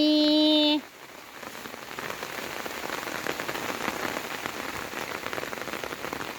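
Rain falls steadily on a surface, a continuous close patter of drops. A short sustained musical or electronic tone comes before it.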